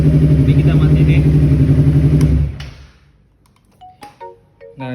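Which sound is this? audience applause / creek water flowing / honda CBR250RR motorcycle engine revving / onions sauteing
honda CBR250RR motorcycle engine revving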